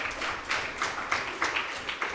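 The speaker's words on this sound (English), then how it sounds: "give him a round of applause" Audience at a youth sitting event gives a round of applause: a steady wash of many hands clapping at a moderate, somewhat distant level, with gentle surges throughout and no talking.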